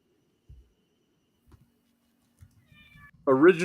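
A cat meows up close at the very end, loud and wavering, after a quiet stretch broken only by faint taps and a soft background tone.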